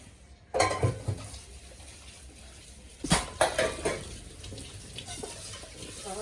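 Dishes clatter and clank in a sink under running water, with bursts of clattering pots and cutlery close by, no talking.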